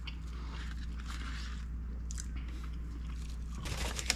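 Crunchy McDonald's fries being bitten and chewed, close and fairly quiet, with soft crisp crunches spread through the clip and a louder burst of crunching near the end, over a steady low background hum.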